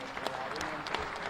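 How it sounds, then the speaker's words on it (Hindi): An audience applauds at a Chhattisgarh government event launching the groundwater conservation mission with the Chief Minister; a brief, fairly faint burst of crowd clapping with a dense, steady texture. "जोरदार तालियों के साथ।"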